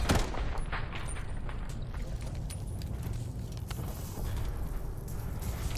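Rapid shotgun and automatic gunfire in a Black Ops 7 Search and Destroy match, sustained and dense throughout with scattered sharp blasts and a loud crack at the start.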